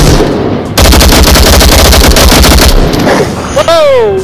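Rapid gunfire from a weapon in the VR shooter Onward, a loud, close burst of rhythmic shots lasting about two seconds, followed by a voice talking.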